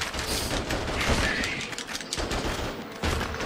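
Gunshots crackle in the video game Attack of the Movies 3-D, a dense, sustained burst of rapid shots with heavy thuds running through the whole stretch.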